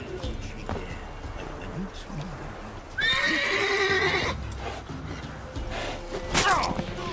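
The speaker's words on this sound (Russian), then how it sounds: "Слышишь, лошадь?" A horse in The Witcher 3: Wild Hunt whinnies loudly in a long shrill neigh midway, with hoof clip-clops and scattered game-like thuds around it, followed by another short whinny.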